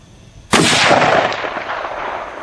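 A single loud rifle shot from a Tikka in .300 WSM, fired outdoors at a target of tannerite and an old fridge, a sharp crack followed by a long decaying rolling echo.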